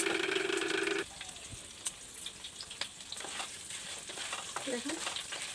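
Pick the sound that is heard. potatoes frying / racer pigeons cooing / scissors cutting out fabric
potatoes frying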